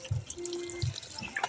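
Fermented sweet potato leaf mixture liquid trickles and drips as it is poured in, in two short splashy bursts with light watery dribbles between, fairly close and quiet.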